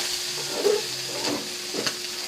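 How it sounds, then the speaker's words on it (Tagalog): Flaked smoked fish (tinapa) being sautéed in a pan, producing a soft, close hissing sizzle with a few brief scraping stirs over a steady background hum. "Igisa na natin yung tinapa na hinimay ko kanina, guys."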